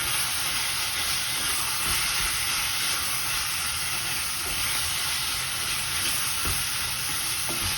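Minced meat frying with tomato puree in a pan for Greek spaghetti with mince gives off a constant loud sizzle and hiss, broken by occasional scrapes and knocks as it is stirred rapidly, close up.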